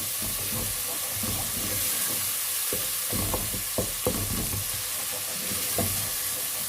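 Maash dal roasting in a pan for a dhaba-style dish, a continuous sizzle broken by repeated scraping knocks as a spoon stirs it through, with no talking.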